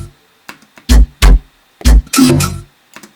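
Chopped bass samples from an original stem hit in a choppy rhythm, a few loud punchy low bursts separated by brief gaps, alone with no voice.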